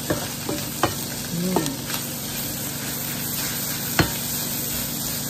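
Vegetable fried rice with tocino is stir-fried in a pan, with a steady sizzle under scattered scraping clinks of a utensil against the pan.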